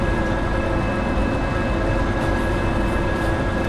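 Train rolling along rails in the Derail Valley game, a steady low rumble with constant mechanical drone and faint tonal hum, continuous and unbroken, heard from on top of the train.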